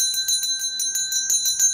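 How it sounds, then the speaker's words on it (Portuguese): A bright notification bell rings in a quick, repeated string of about ten evenly spaced dings, clear and close with no voices. "Aciona o sininho das notificações"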